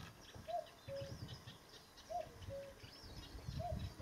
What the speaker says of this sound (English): And way off, at the very top of the tree, there's the cuckoo.